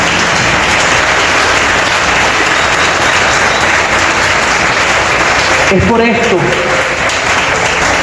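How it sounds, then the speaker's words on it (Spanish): A church congregation claps in praise to God, loud sustained applause throughout, with a brief spoken word breaking in near the end. "Le da un aplauso de alabanza a Dios."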